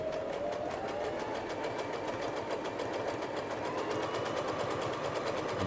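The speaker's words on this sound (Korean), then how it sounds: "노루발을 내린 상태에서 예, 박음질을 하게 됩니다" A Brother SF100 sewing machine, just repaired, stitches steadily through fabric with a fast, even mechanical rattle, close and continuous throughout, with no talk.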